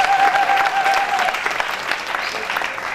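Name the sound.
applause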